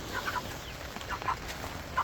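Jumbo Cornish cross chickens, young and slow-growing, cluck softly in short scattered peeps over a steady hum of farm background noise.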